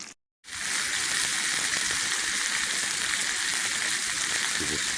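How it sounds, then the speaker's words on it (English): Steak frying in a pan at a campsite, a loud, dense, continuous sizzle close by that starts abruptly after a short silence and holds steady throughout, no voices. "I'm going to flip this steak."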